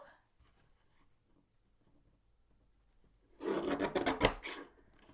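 A paper trimmer blade slices through patterned crafting paper in one brief rasping stroke of about a second, close and crisp after a quiet pause, with no talking.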